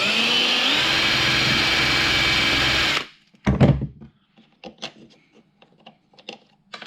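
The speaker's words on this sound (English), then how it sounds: "now I'm going to take these mounts and countersink so that these bolt heads will stick down at the surface" A drill countersinks bolt holes in small mounts for a Sunfish sailboat mast camera mount, whining steadily and loudly for about three seconds before stopping, followed by scattered light taps and clicks.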